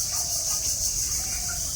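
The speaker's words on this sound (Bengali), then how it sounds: "অনেক বড় অনেক মুরগি মাশাআল্লাহ, খুব খুব সুন্দর বড় হয়ে গেছে" Many chickens on a large poultry farm create a dense, continuous chorus of overlapping high clucks and chirps that fills the shed at an even level, with no single bird standing out and no one speaking.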